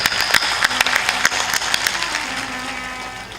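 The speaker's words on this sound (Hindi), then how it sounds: "इनके लिए एक बार ताली बजाते।" Audience clapping at a Hindu religious discourse (katha) in a village program, a burst of hand claps that thins out over a few seconds, with a voice or music faintly underneath.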